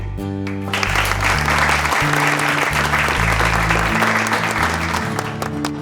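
An audience of students in a TV drama bursts into sustained clapping that starts after a brief lead-in and carries on evenly, mixed with steady background music.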